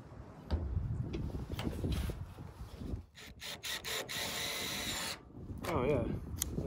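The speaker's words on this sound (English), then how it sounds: "Drywall screw right through the roofing metal." An impact driver drives a drywall screw through roofing metal in an off-grid barn, giving a few short bursts of rapid hammering whirr up close, then a sustained grinding run before it stops.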